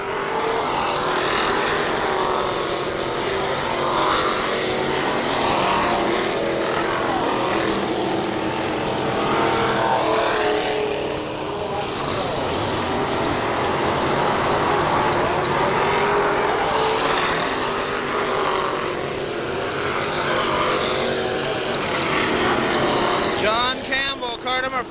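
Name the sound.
stock race cars racing on oval speedway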